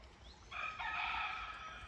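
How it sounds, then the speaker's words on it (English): A rooster crows once at a moderate distance, a drawn-out call over quiet outdoor background. "Good morning, Mr. Rooster."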